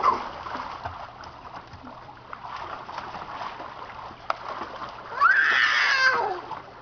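A dog swims and splashes in a backyard pool, with faint water movement and soft voices through most of the clip, then a louder burst of splashing near the end.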